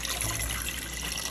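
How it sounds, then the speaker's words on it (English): Water poured into a cooking pot over corn cobs, a steady close splashing and trickling fill throughout the brief moment, with no talk. "put our corn cobs in our pot and then cover them up with our water"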